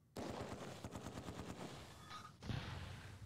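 Mortar rounds sliding down their tubes and firing in the Close Combat 2 war game, heard as a sharp onset followed by a rapid burst of clattering gunfire-like reports, then a short gap and another thud, loud and close.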